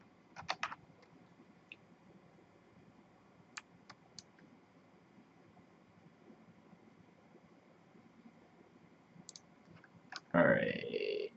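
Sparse clicks of a computer keyboard come in short scattered bursts at close range, quiet against a faint background hum, with a louder rustling burst at the end.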